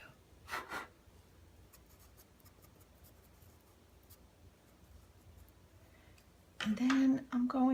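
Soft, scratchy strokes of a pastel pencil coloring on paper, faint and close, with a couple of brief rubbing passes before a voice begins talking near the end.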